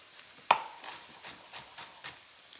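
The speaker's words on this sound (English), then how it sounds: "So I'm going to chop them finely" A knife chops cauliflower stems finely on a cutting board: one sharp firm chop, then several lighter, evenly spaced cuts, close and fairly quiet.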